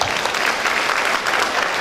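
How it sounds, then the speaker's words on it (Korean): Dense, loud audience applause fills a hall in Seoul's aT Center at a national character-education event, a continuous crowd of clapping given for members of parliament. "응원해 주신 국회의원님께도 박수 한번 드리겠습니다"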